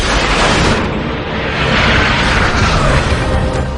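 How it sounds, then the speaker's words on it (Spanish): A loud, sustained roaring blast aboard a Boeing 737 airliner in flight, with rushing, rumbling noise that fills the whole clip, like an explosion with continuous wind-like turbulence. "una explosión a bordo de un Boeing 737"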